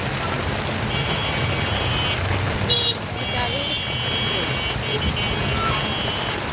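A steady hiss of heavy rain fills the scene alongside a low rumble of passing traffic on a bridge, with a brief higher-pitched beep partway through.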